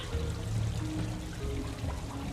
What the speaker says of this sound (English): Please do not touch the waterfall. The fountain is decorative.